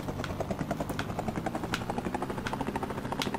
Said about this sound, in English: Yeah, you've got to listen to the revs on the engine.